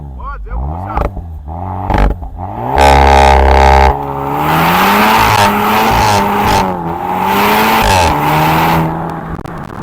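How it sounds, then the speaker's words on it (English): A 2024 VW Golf GTI four-cylinder turbo engine revs and accelerates hard with rising harmonic tones, close and loud, with a brief roaring burst early on. "So this car uses a 4-cylinder turbo engine"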